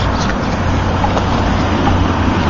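Steady street traffic produces a continuous broadband roar of passing vehicles. The noise is fairly loud and even, with no voices.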